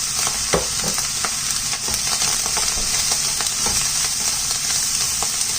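Pineapple fried rice with soy sauce stir-fried in a hot pan, giving a steady loud sizzle broken by frequent scraping and clattering of a spatula as it is stirred constantly.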